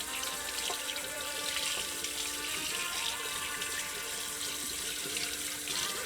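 Tap water runs steadily over a cleaned trout being rinsed after gutting, a continuous close splashing hiss with small shifts as the fish moves under the stream, and no talking.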